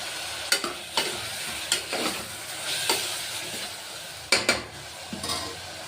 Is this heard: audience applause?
no